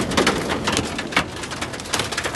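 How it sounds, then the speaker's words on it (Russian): Large hail pelting a car parked among roadside trees in the Cherkasy region, heard from inside with the window closed: a loud, dense, continuous rattle of impacts drumming on the body and glass. "Лупасит так страшно, что просто ужас. Там град такой."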